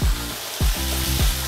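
Pointed gourd (potol) dusted with a pinch of turmeric fries in a little oil in a wok, giving a steady loud sizzle broken by three heavy scraping stirs of a spatula, with no talking.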